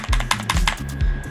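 A keycap snaps back onto an EVGA Z15 RGB mechanical gaming keyboard, giving a few quick close plastic clicks and presses in a rapid cluster.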